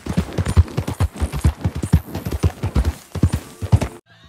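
Hooves of a Silver Dapple Pinto Missouri Fox Trotter in Red Dead Redemption 2 beat out a loud, close, even four-beat gait on hard ground, running for about four seconds before stopping abruptly into quiet.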